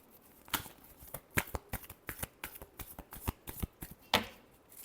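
Tarot cards being shuffled by hand up close: a rapid series of sharp, papery riffles and slaps in an uneven rhythm, fairly quiet, with no talking over them.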